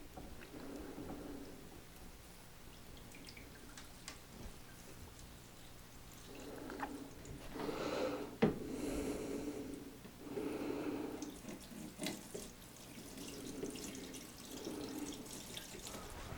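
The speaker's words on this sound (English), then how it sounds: "We can test the drain plumbing to make sure it's not going to leak." Water runs quietly through newly installed bathroom drain plumbing and a P-trap, a faint steady wash with gurgling swells midway.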